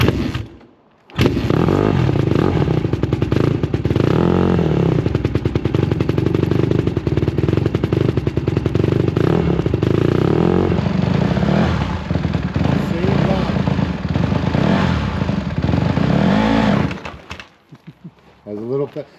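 A motorbike ridden by a learner runs loud and close, its engine chugging and revving unevenly for a long stretch before cutting out near the end, with people talking over it.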